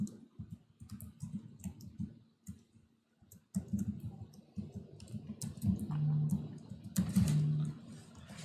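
Computer keyboard keys are typed in short irregular bursts while code is entered for a Java example, close and fairly quiet, with a brief pause partway through and denser clicking toward the end.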